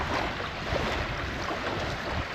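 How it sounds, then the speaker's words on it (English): Strong wind buffets the microphone in a constant roar, with the wash of choppy water underneath. "It's very windy, I don't think we'll be down here for very long"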